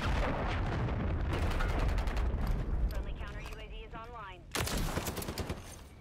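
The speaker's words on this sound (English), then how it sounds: "But a cruise missile inbound." Heavy, continuous explosive fire and booms in a Modern Warfare 3 multiplayer match as a cruise missile strike comes in, loud and sustained, with a sharp new blast near the end over dense battle noise and some voices.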